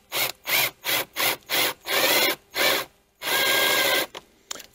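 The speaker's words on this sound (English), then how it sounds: "I'm just using a small self-tapper right now" A small self-tapping screw is driven into the plastic of an E-Z-GO RXV golf cart in a series of short, loud bursts of grinding and ratcheting, followed by one longer run and a brief pause with faint clicks.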